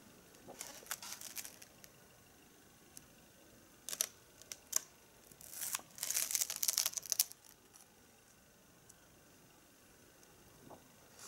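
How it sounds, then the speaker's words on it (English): Pages of a large art book crinkle and rustle as they are flipped, with scattered sharp crackles and a denser burst of crumpling near the middle, close and fairly quiet. "Pages crinkling."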